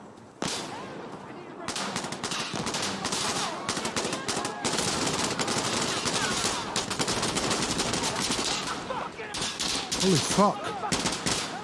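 Dense automatic gunfire from a burst-fire weapon in the shooter game Insurgency Sandstorm, loud and near, rattling almost continuously for about ten seconds with brief gaps, while a player briefly swears over it.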